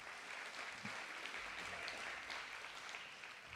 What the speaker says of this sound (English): Let's give Roger a round of applause.